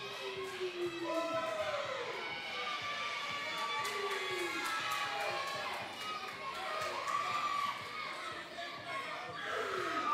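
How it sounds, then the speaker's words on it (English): A wrestling crowd at the ARW Arena chants Big Rig loudly and continuously, many voices rising and falling together with shouts mixed through the whole stretch. "The crowd is chanting Big Rig here at the ARW Arena"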